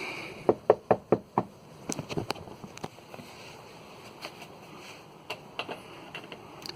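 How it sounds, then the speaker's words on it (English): Several sharp knocks on a house door, a quick cluster of four or five raps followed by scattered softer taps, close and loud over faint outdoor wind. "I will cut back in just a second when I knock on the door."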